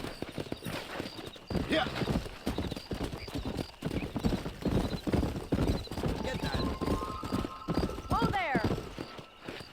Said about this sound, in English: All right, I'll show you how we ride round these parts. Giddy up!